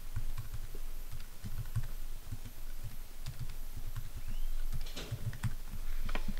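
Someone types an email address and a password on a computer keyboard, a quiet, steady run of close key clicks with short pauses and a brief faster burst near the end.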